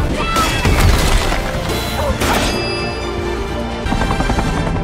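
Loud, dense crackling bursts and booms of fireworks exploding one after another in a video game, sustained throughout with a chaotic, crashing texture.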